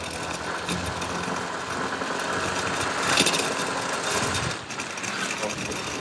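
Yamaha Fascino S 125 Fi Hybrid scooter engine pulls on an open road, a steady mid-pitched hum that swells briefly as it accelerates, mixed with wind and road rush and no talking.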